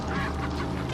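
A chicken in Resident Evil 4 gives a brief, loud, nasal squawk as it jumps, close and alone.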